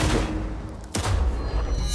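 Loud power pistol shots in Cyberpunk 2077, a sharp blast near the start and another heavy crack midway, each followed by booming reverberant tails.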